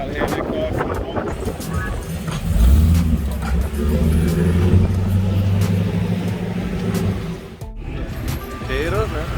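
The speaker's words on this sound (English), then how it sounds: "Nice Bel Air right there." Engine of a classic Chevrolet Bel Air at a Mississippi Gulf Coast car show, a steady low rumble that swells midway and holds, with wind buffeting the microphone and people talking over it.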